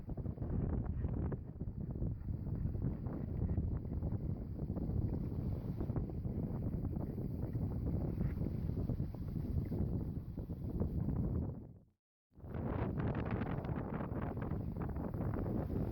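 Strong wind buffets the microphone aboard a 19-foot sailboat cruising along the coast, a steady loud roar with water rushing beneath, briefly cutting out near the end before resuming.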